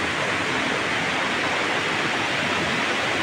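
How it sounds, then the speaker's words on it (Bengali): The Reshi River in East Sikkim rushes in a steady, dense broadband roar, close and continuous throughout with no voices or breaks. "এখানে এসে ভালো লাগে। নদীর শব্দ,"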